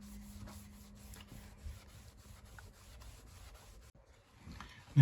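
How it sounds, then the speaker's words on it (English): A sponge scrubs an RV shower surface to lift water spots, a low continuous rubbing with faint squeaks and small knocks, close and quiet with a steady hum beneath. "scrub it off and see what happens. Just going to use a sponge."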